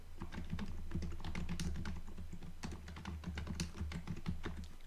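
Fingers entering spreadsheet data on a computer keyboard, a quick irregular run of close, crisp key clicks over a faint low hum, with no talk.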